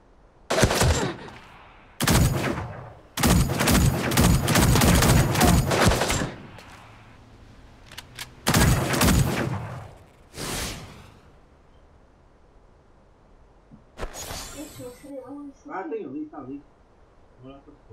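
Several separate bursts of rapid gunfire in the mobile game Super Mecha Champions, some long and sustained, separated by quieter gaps, with voices talking softly toward the end.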